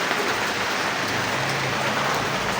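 Steady rain falling outdoors, a dense continuous patter of drops on surfaces, loud and close with no let-up.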